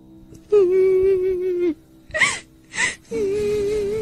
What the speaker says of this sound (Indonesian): Suara tangisan semakin keras.